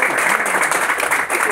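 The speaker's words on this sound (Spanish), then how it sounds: "así que démosle un aplauso también," Audience applause fills a club speech hall, a dense steady wash of clapping heard loud and close for a brief moment.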